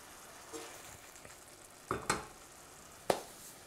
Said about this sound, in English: So I'm going to reduce the heat and let this cook for about 15 minutes or so